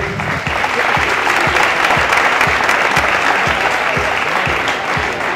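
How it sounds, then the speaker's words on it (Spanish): Loud, dense crowd applause at a bodybuilding championship in Salt, a continuous roar of clapping with a steady low thumping beat underneath. "Un aplauso"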